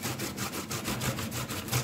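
A washed Irish potato is rubbed against a grater in quick, even rasping strokes, soft and close, with no voices.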